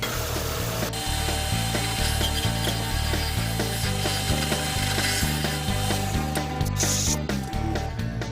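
Wood turning scraper cleaning the inside and bottom of a captive ring goblet on a lathe, a steady rhythmic scraping and chattering with a regular pulsing beat, loud and close throughout with no talking.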